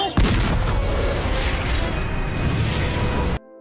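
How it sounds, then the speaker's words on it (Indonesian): A cannon fires at an enemy in an anime battle, a heavy booming blast that opens sharply and rolls on as a loud, dense roar for several seconds before cutting off abruptly. "Luke tanpa basa-basi di sini menggunakan meriam untuk menyerang Setanta"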